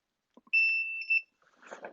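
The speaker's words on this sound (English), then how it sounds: "So I'm hearing a beep." A single steady electronic beep, clear and close, lasting under a second, while probing pins on a WRT54G router board, followed by faint handling noises.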